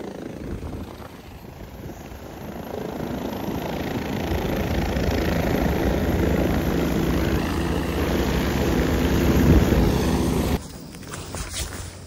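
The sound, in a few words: helicopter flying, Kedarnath helicopter ride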